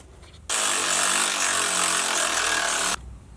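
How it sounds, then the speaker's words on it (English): A power tool, likely an impact wrench, tightens nuts on a Jeep JLU shock bracket during a Clayton Offroad 2.5-inch lift kit install, one loud steady whirring burst of about two and a half seconds with quiet before and after. "Go ahead and get the nut on the back, and you can go ahead and tighten these on up."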